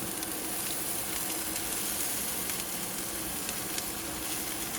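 Chicken hits a hot pan of vegetables on an RV stove and sizzles, a steady, fairly loud hiss with a few sharper spits and crackles scattered through it.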